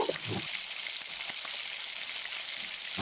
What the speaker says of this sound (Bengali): সেই টমেটো বাটাটা দিয়ে খুব ভালো করে আবারও কষিয়ে নেব